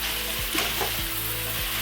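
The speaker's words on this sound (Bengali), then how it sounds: "চিকেনগুলো দিয়ে দেওয়া হয়ে গেছে এবং আমরা ভালো করে এবার নাড়িয়ে নেওয়া হচ্ছে।" Chicken pieces for chilli chicken are stirred as they fry in a pan over medium heat, producing a dense, even sizzle with faint scraping of the stirring and a steady tonal hum underneath.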